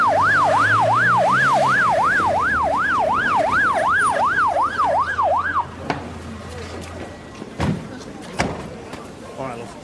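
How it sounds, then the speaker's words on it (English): An ambulance siren wails in a fast rising-and-falling pattern as it arrives, loud and close, then cuts off, followed by thumps and voices in a television drama scene. "now that'll be the ambulance."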